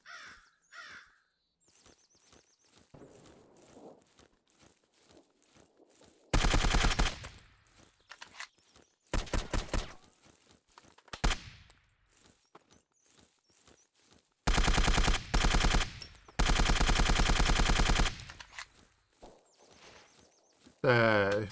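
Gunfire in Zero Sievert, a 2D top-down shooter, comes as loud bursts of sustained automatic fire that break out between stretches of quiet footsteps and small sounds.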